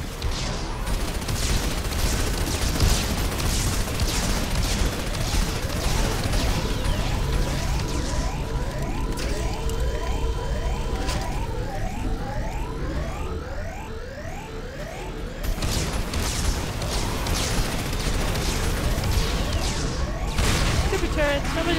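Turrets fire in dense, continuous volleys of gunfire in the Mass Effect 2 video game, loud and relentless. Layered explosions and alarm-like tones sit under the shooting, and a voice talks over it.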